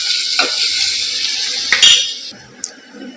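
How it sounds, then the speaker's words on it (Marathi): Onion with ginger-garlic paste sautéing in oil in a pan gives a steady mid-level sizzle, broken by a few sharp clinks of a spoon or spatula against the pan. "कांदा पण छानपैकी आता आपण परतून घेऊया तेलामध्ये"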